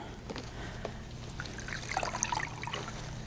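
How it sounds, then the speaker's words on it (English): Water trickles and drips as a patient's arm is rinsed during a bed bath, with soft splashing over a steady low room hum, close and gentle. "And I'll rinse the arm."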